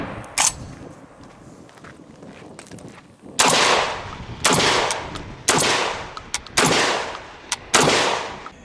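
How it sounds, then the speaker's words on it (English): A Rock Island Armory VR80 shotgun fired at an outdoor range, with five loud, sharp blasts spaced roughly a second apart, each trailing off into a brief echo, after some faint handling noise. "taking the VR80 out to the range, one of the first things you'll notice is that it's a very soft shooting gun"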